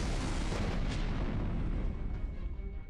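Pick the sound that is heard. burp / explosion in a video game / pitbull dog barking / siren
explosion in a video game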